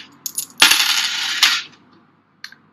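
Coins tossed and dropped: a few light clinks, then a loud sustained metallic rattle and ring of coins landing and settling, followed by a faint clink near the end, close.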